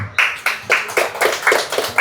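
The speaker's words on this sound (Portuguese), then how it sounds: "Dê mais uma forte salva de palmas ao Senhor Jesus, o nosso Rei." A church congregation claps in a steady, even rhythm, about four sharp claps per second, crisp and close, with no voices over it.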